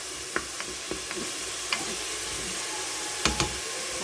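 Garlic sizzles in oil in a Cookeo multicooker pot, a steady broadband frying hiss with several sharp spoon clicks and stirring scrapes scattered across it, close and moderately loud, with no talking.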